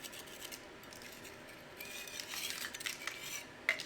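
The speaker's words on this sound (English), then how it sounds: "you just want to scrape all this heavy stuff off" Metal scraper dragging years of built-up mud and grime off an engine, producing faint gritty scrapes and rasps in uneven strokes, growing busier and louder toward the end with one sharper scratch.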